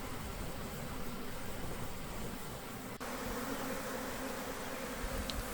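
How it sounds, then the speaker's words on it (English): A dense, steady hum of a honeybee swarm buzzing close by during a bucket-method swarm collection, droning continuously without pause or voices. "some other bees fanning their Nasanovs in competition"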